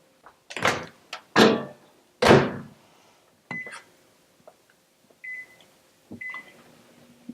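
A microwave door clunks shut with a few loud knocks, followed by several short electronic beeps as potatoes are set to cook, no talking.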